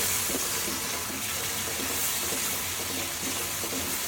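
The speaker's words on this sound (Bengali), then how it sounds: "হালকা একটু পানি দিয়ে দিচ্ছি যাতে মশলাটা পুড়ে না যায়।" Oily spice masala for a beef curry hisses and sizzles in a pan after a splash of water is added, a dense, steady crackling fizz that stays loud and close throughout with no voices.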